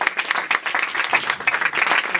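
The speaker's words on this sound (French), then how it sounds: "Et on le remercie, on l'applaudit." Applause from a crowd at a political activists' meeting, a steady patter of many hands clapping at moderate loudness without a break.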